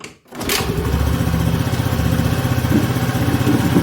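A Honda Activa 5G scooter with the choke on cranks after a brief pause, then catches and settles into a steady, loud, close idle with a rapid even putter.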